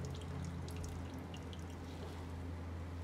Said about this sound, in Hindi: हथेली के बीच में ऐसे प्रेस करेंगे और सारा पानी निचोड़ देंगे इस तरीके से